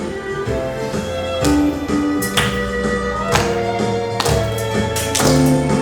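Children at a church worship service clapping along to a praise song, sharp, rhythmic claps sounding over sustained music with steady tones, moderately loud and regular.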